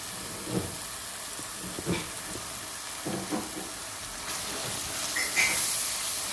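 Chana masala frying in a pan, a soft continuous sizzle with occasional light scraping clicks of stirring, heard close and fairly quiet without talk.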